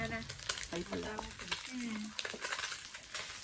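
Fish frying in a pan, a faint, steady sizzle with stirring sounds, heard at low level while people talk nearby.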